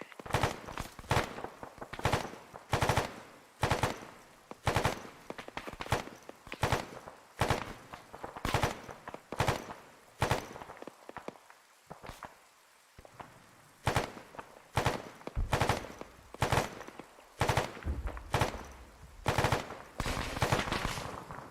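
Rapid machine gun bursts in an Arma 3 infantry attack-and-defense battle, repeated sharp volleys at steady intervals, loud and near, with short pauses between strings of fire.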